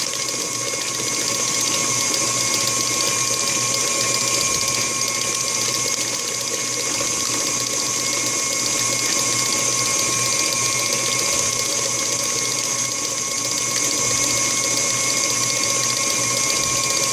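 An electric hand mixer beats eggs one at a time into batter for a Dominican cake, giving a steady, close mechanical whir with a faint rattle that runs without pause and without talking.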